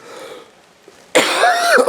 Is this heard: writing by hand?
no